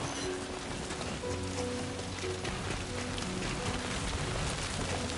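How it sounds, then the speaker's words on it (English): Rain falls in the video game Death Stranding 2, a steady dense patter on surfaces heard at even loudness throughout, with faint tonal game sounds beneath and no talk. "Oh, and there's rain on the screen."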